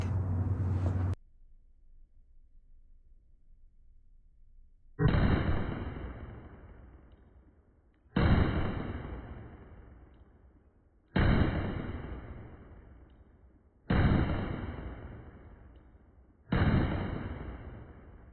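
An FN 509 CC Edge XL pistol fires five loud, sharp shots at an outdoor range, spaced about three seconds apart, each ringing off briefly.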